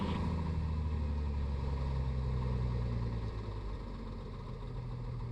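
A Piper Comanche 250's engine idles as a steady, loud, low drone heard from the cockpit, dropping slightly in pitch partway through, with no talking.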